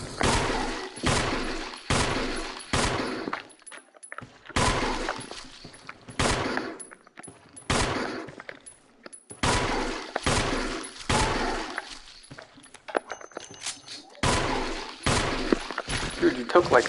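Gunshots in the survival horror game Resident Evil REmake HD: loud, close shots fired in irregular bursts, mixed with speech and separated by short quiet gaps.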